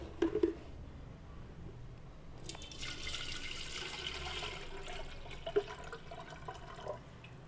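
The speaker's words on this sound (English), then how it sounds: "So I will put the water in the electric kettle." Water poured into an electric kettle, a splashing, gurgling stream with a few knocks at the start that steadies into a continuous pour, close and fairly loud.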